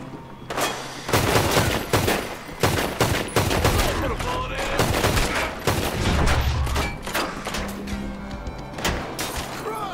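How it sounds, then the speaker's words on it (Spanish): Rapid, loud gunfire in Red Dead Redemption 2, a chaotic town shootout with dozens of sharp overlapping shots and bursts in irregular rhythm, some close and cracking, others softer, with faint game ambience between. "Oh, ya disparan. Ya disparan."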